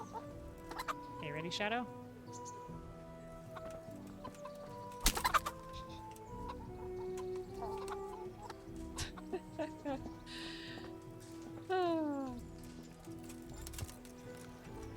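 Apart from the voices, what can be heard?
chicken clucking in video game Kingdom Come Deliverance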